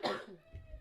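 A woman's single cough bursts out loud at the start and then fades into a low murmur and faint background rumble.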